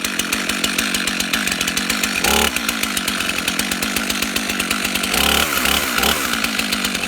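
A Stihl chainsaw cuts into a tree stump in the woods, its loud, steady engine snarl running throughout with a brief surge of revving near the middle and another toward the end, and no talk over it.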